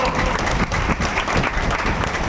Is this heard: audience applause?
yes